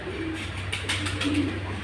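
Soft low pigeon coos repeat against a steady background hum, fairly close and moderately faint.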